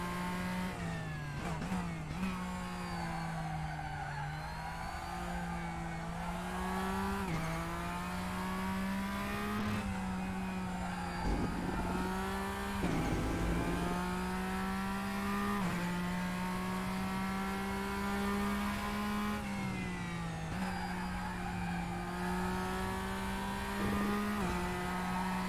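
A Porsche race car in the RaceRoom racing game drives flat out around a track, its engine droning loudly and continuously as revs climb and drop with gear changes and braking, with occasional tire noise.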